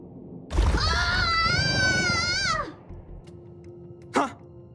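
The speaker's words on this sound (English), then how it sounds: "Did someone scream?" A drawn-out, high scream from a Honkai: Star Rail character lasts about two seconds, loud and close with a wavering pitch, and a short sharp vocal burst follows after a quiet gap.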